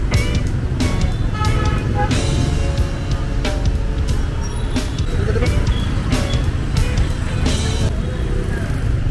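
Rush-hour street traffic in Hanoi at evening, a dense continuous rumble of cars, motorbikes and buses with intermittent horn toots and passing engines, heard close from the roadside.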